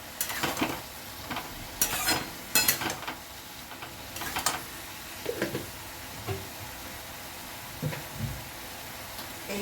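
Cumin seeds sizzle and crackle in hot oil for a bottle gourd and fish curry, with a steady frying hiss broken by several sharper bursts and a few spoon scrapes against the pan.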